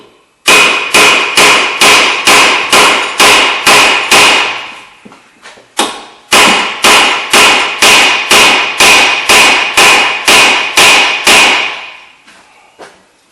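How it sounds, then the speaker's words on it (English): A hammer strikes the front brake rotor of a 2005 Mitsubishi Galant to knock it loose: two fast runs of about ten loud, sharp metallic blows each, separated by a short pause, close up with no talking. "you take a hammer and you hit it a couple of times here, and it should pop right off"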